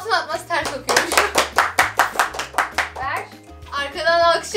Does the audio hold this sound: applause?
yes